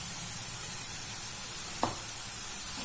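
Grated pumpkin cooking with jaggery in a pan gives a soft, steady sizzle and hiss throughout, with one brief clink near the middle and no voices.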